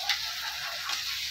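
Green chillies dropped into onions frying in hot oil for a tadka, a dense steady sizzle with a couple of brief sharper crackles, close and continuous.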